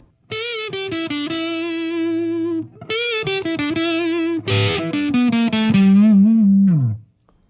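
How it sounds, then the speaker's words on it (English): Electric guitar played through a Boss MT-2 distortion pedal with the gain raised, loud sustained distorted chords in three bursts with brief gaps, ending in a bending, descending note that cuts off. "So it's a lighter distortion, but it's still pretty dirty."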